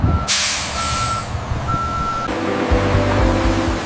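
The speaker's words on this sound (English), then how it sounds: "Colossal trucks arrive at our state-of-the-art facility, initiating the fresh journey." Large trucks arrive at a papaya processing factory, with a loud burst of air-brake hiss, a steady repeating reversing beep and a deep diesel engine rumble swelling near the end.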